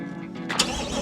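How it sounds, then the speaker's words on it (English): A 2021 Chevrolet Corvette Stingray 2LT fires up, its starter catching into a sudden loud engine bark, then settling into a rich, steady rumble heard close by without talk. "the videographer is about to start the car. You guys just gotta listen to this right here."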